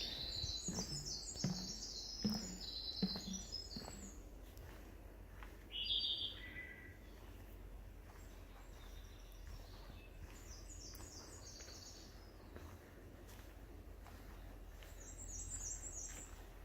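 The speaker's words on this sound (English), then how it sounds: "Thought you'd want to hear some bird sounds." Birds chirp and sing in short, high trilling phrases across a quiet woodland, some calls nearer than others, with soft background hush.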